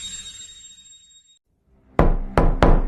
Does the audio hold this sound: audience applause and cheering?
no